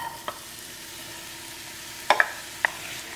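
Onions sauté in hot oil in a pot for a Goan prawn and potato ambot tik, a soft continuous sizzle with a few sharp metallic clinks from a stirring spoon near the end, close by and without speech.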